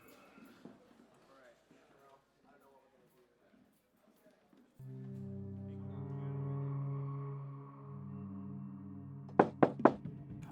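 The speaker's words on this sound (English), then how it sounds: "A knock sounded at the front door of the Montana ranch-style house" Three quick, sharp knocks land on the front door of a Montana ranch-style house near the end, after a narrating voice and then a low, sustained musical drone.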